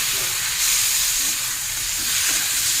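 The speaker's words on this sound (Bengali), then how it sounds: "টমেটোটাকে একটু আলুর সঙ্গে ভেজে নেবো" Chopped tomato frying with potatoes in a pan for a fish curry, a steady loud sizzle and hiss throughout with faint stirring.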